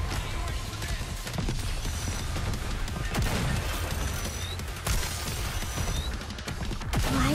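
Rapid gunfire bursts and impacts from the NIKKE video game form a dense, continuous barrage with crashes and booms, with a voice briefly in the mix.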